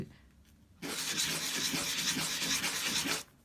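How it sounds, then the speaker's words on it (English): A ring rubbed in a figure-eight motion on 240-grit sandpaper, a continuous close abrasive scratching that starts abruptly, holds steady for about two and a half seconds, then stops. "I do that on my favourite 240 sandpaper, and I do it in a figure of 8"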